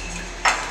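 A spoon stirs honey into a cocktail, giving one short, bright clink against the glass over a quiet, steady background.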